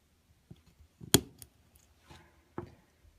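A plastic HO scale model ditch light part snipped in half, a few sharp isolated clicks and cuts spaced over a few seconds, close and quiet with no talk.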